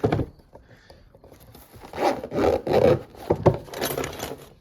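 A zipper being pulled shut on a small storage box beneath the seat of a winter vehicle, heard as a few quick rasping, rubbing strokes with handling noise, close and fairly loud, with no talking.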